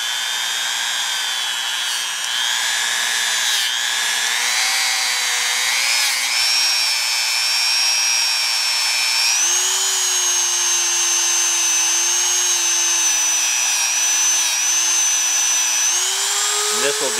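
A rotary tool fitted with a large wheel grinds the hammer notch of an AR15 trigger, giving a steady high-pitched whine that holds close and loud, rising slightly in pitch partway through.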